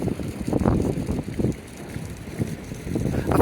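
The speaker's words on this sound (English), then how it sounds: "that wind is definitely icy" Icy wind on the Blackpool seafront near South Pier gusts across the microphone as low, uneven rumbling bursts that rise and fall.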